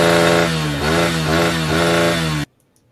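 A Honda CRF 150F dirt bike with stock exhaust revs loudly and steadily, its pitch dipping and rising across a couple of seconds before cutting off abruptly.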